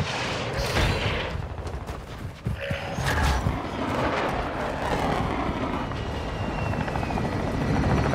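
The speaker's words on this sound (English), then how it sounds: "chopper gunner ready to deploy." A chopper gunner helicopter in Modern Warfare 2 roars loudly and continuously, its rotor drone mixed with bursts of heavy automatic gunfire and distant explosions throughout, with no talking.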